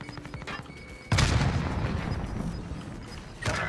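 A grenade detonates in a multiplayer shooter, a loud sudden blast with a rumbling tail that decays over a couple of seconds, followed by a second sharp burst near the end, after faint earlier noise.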